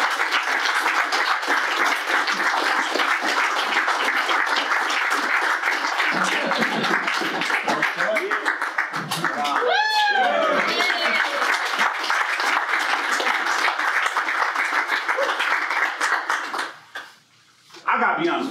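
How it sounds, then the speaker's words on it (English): An audience at a Mises Caucus California mixer in 2021 applauds to welcome a speaker. The clapping is loud and sustained, with a few whoops and voices in the crowd, then drops off sharply near the end before a brief return. "That clap was kind of weak."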